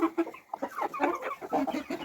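A three-month-old young rooster clucks in quick, irregular bursts, close by and fairly clear, with a short pause near the start.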